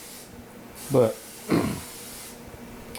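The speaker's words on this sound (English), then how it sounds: "I'm going to hit them with a little bit of this spray and see what that does" Cooking spray hisses onto burger buns in two short, close bursts about half a second apart. A quiet word is spoken just before them.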